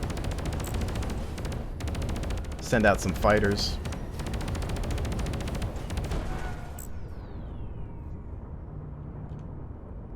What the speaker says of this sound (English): This is a rotary cannon, so you have to hold it kind of like a chain gun.